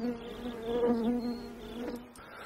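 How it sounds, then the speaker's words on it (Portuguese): Bees buzz around a saucer of food set out 500 metres from the hive, a close, steady droning hum that swells and fades as insects fly past. "Cada abelha que pousa sobre ele recebe uma marca branca."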